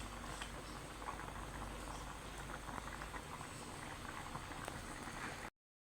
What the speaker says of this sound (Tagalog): Yan, pakulan natin.